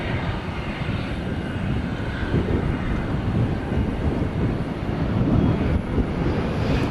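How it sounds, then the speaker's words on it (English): British Airways Airbus A380 departing for London from DFW Airport at night, a steady broadband jet roar that holds loud and constant throughout with a slight swell near the end. "British Airways is off to London on the A380"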